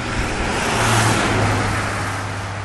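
Road traffic sweeps past a cyclist on a windy road; a car's broad whoosh swells close and loud about a second in, then fades under a steady engine hum and wind rush.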